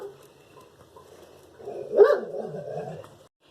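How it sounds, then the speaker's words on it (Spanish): Dogs bark in a short burst near the middle, one louder yelp over softer barks and whines, set against a quiet room with faint background noise. "Ay, estos perros."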